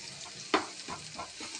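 Fresh ginger garlic paste fries in a pan with a soft sizzle, broken by a sharp spoon scrape and a few stirring strokes, and no one talks.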